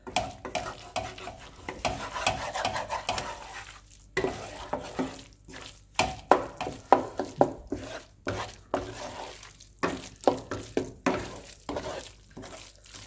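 Eggs and onion for anda bhurji stir-frying in a pan, soft sizzling under repeated scraping and stirring strokes of a spatula, close and moderately quiet, with no talk.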